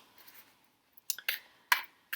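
Tarot cards being shuffled by hand, giving a few short, crisp riffling and flicking bursts in a quiet room, with silent gaps between them.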